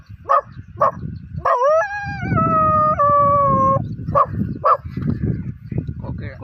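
A boy imitates a dog with his voice, giving short yelps and a long, wavering howl that rises and falls, then more yips, while rustling and low background noise continue throughout.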